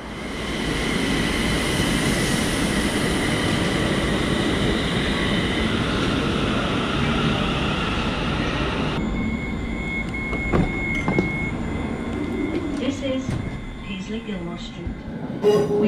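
A train rumbles along steadily with broadband rolling noise, then slows as squeals and clunks emerge near the end, braking on approach to Glasgow Central station, Scotland.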